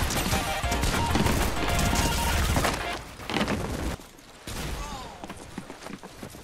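Heavy gunfire in the video game Fortnite, a loud sustained barrage of shots with crashing impacts, then thinning into scattered bursts near the end.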